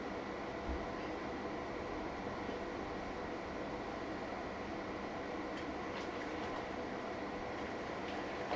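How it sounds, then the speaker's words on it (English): Faint, irregular knocks from the leading wheel set of a model steam locomotive passing over rail joints, set against a steady broadband rumble and hiss. "That faint knocking sound you can hear, that is the forward and leading wheel set"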